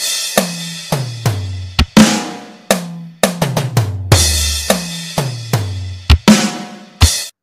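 A punchy drum kit plays a lively beat at moderate tempo, deep booming kicks and tom hits mixed with crashing cymbals, close and loud.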